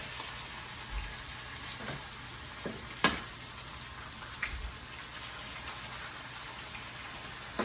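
Eggs cracked into a hot pan for sweet and spicy Indonesian nasi goreng fried rice: a continuous crackling sizzle, close and fairly loud, with a few brief taps and knocks and one sharp crack near the middle.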